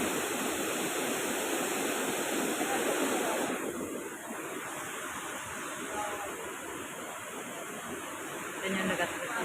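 Water rushing in a forest stream, a constant broadband hiss that drops a little partway through and stays steady and fairly close.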